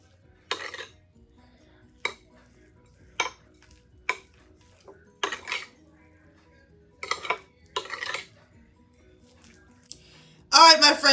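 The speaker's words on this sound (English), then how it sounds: "give this a quick stir until everything is well incorporated" Spoon stirring deviled egg filling with sweet pickle relish in a bowl, a series of separate short clinks and scrapes against the dish spaced about a second apart, close and clear, ending in a louder scraping burst.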